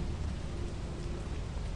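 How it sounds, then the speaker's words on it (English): Steady rain pours in the video game Lethal Company, a constant dense hiss with low rumbling underneath, quiet and unbroken throughout. "it's raining"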